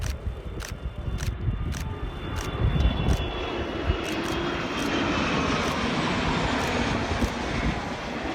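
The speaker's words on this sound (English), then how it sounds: "the C-17 flew through, becoming the largest aircraft to traverse the course" A Boeing C-17 military jet flying low through a valley gives a steady, broad engine roar that swells slightly as it passes, loud and continuous, with faint clicks over it.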